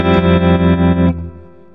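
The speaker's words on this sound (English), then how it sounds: "I want to have it more wet and longer delay or longer reverb" Sustained electric guitar chord through a VOX Cambridge50 amp, drenched in delay and reverb, ringing loudly then trailing off into a fading echo tail.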